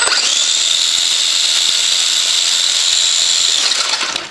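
Electric brushed motor of an RC truck, a Wendigo conversion, spinning its wheels off the ground: a loud, steady high-pitched whine held for about four seconds before winding down, with no talking.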